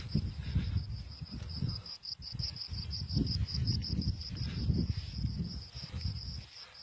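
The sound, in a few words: crickets chirping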